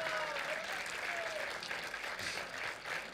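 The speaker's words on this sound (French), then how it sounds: "Applaudissements pour le réalisateur." Audience applause for a film director at the closing and awards night of the Effets Stars film festival 2017: steady, dense clapping from a crowd that fills the whole stretch at moderate, fairly even volume.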